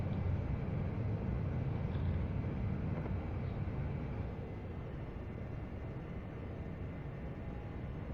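Saab AJS37 Viggen jet taxiing to the runway in the DCS simulator, a steady low engine rumble and whine that holds at an even level and eases slightly partway through, with no talk.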